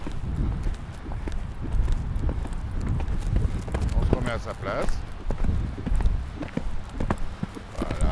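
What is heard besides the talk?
horse hooves clip-clopping during riding lesson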